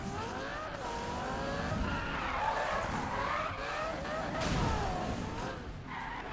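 Police car chase in Need for Speed (2015), with tires skidding and squealing in long, wavering tones over a steady engine roar that runs loud and unbroken throughout.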